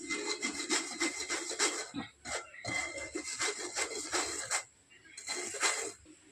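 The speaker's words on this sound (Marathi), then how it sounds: "एक गिलास मैदा घेतलाय आहे चाळून घेणार आहे" Maida flour being sifted through a sieve for sweet flour laddoos in a home kitchen, a close, steady scratchy rubbing and rasping that comes in rhythmic bursts with short pauses, no talking.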